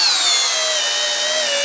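Flex compact cordless drill driving a 5-inch Spax screw into timber, a loud steady high-pitched motor whine with a slowly falling pitch as the screw bites in.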